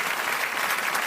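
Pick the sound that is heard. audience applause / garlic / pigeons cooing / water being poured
audience applause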